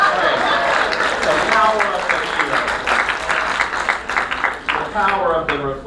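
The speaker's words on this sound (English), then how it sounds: "Give yourself a round of applause." A church audience breaks into warm applause, a dense wash of clapping that thins out toward the end, with chuckles and talk mixed through it.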